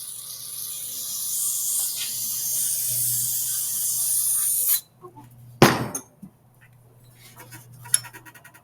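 Cleaner sprayed onto a Briggs and Stratton carburetor: one long steady hiss for almost five seconds, then a short sharp burst, with faint handling clicks around it.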